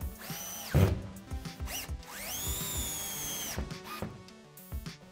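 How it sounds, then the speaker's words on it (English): Power drill driving screws to fix a wooden cleat to a wall for hidden TV shelving, with several rising whirs in bursts and short pauses between them, close and fairly loud, no talking. "Then I'm attaching the cleat to the wall with screws."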